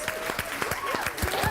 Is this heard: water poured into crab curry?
no